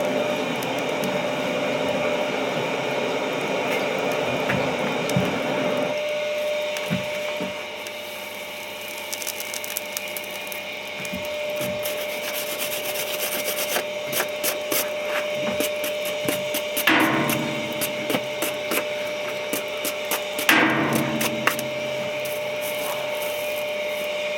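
Wire brush scraping scale off a forged damascus steel billet of nickel and U8 tool steel, a steady harsh rasping over a constant workshop hum, with louder bursts of strokes midway and near the end.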